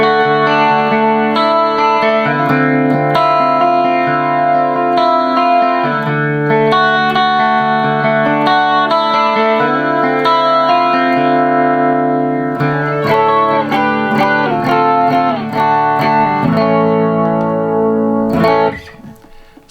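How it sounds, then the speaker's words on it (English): Electric guitar chords run through a JHS 3 Series flanger pedal, set mild, into a Fender Tone Master Twin amp, with a sweeping whooshing tone that holds loud and steady for about twenty seconds before cutting off. "so yeah, it's a flanger."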